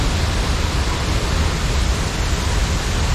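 Steady, dense roar of a waterfall beside an old mill with a large mill wheel, a continuous broadband rush filling the whole clip at close range with no voices.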